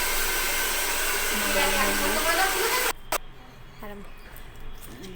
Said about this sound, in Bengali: খুব ভালো করে ড্রায়ার দিয়ে লম্বা লম্বা করে শুকিয়ে নেওয়া হচ্ছে।